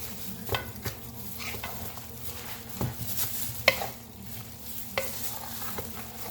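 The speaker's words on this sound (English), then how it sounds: "Just keep mixing it, and because that egg needs to be in there good." A spoon works through cornbread dressing mixed with broth and egg in a bowl, making soft, wet squishing and scraping with occasional sharper taps against the side, continuous and close.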